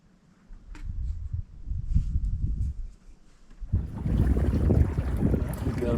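Wind buffets the microphone aboard a sailboat on Priest Lake, a low rumbling gusty roar that eases briefly, then swells stronger with hissing water and breeze.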